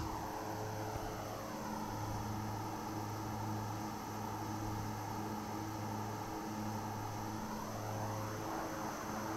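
The twin turboprop engines of a King Air 350 in a flight simulator drone steadily and loudly, with pulsing propeller beats and a high whine, continuous throughout with no talk.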